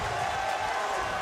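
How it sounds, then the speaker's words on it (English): A crowd cheering at a kickboxing event in Germany, a steady roar of many voices filling the whole moment without pause. "The crowd eating it up here in Germany"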